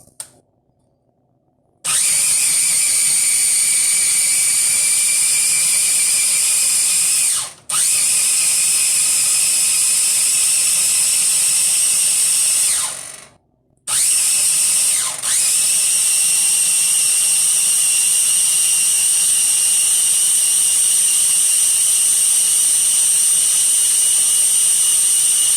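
A blender grinds chimichurri sauce with a loud, steady high-pitched whine in three long runs, each broken by a brief stop, starting after two seconds of quiet.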